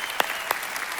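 A church congregation claps, a brief steady patter of hands with a couple of sharper individual claps standing out.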